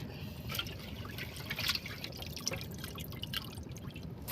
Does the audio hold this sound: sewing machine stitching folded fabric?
no